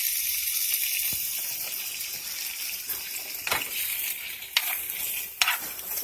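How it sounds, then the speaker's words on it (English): Squash sizzles in a pan glazed with coconut oil, a steady quiet frying hiss broken by a few sharp crackles and pops near the end. "So I went ahead and glazed my pan with a little bit of coconut oil. I'm going to throw my squash in."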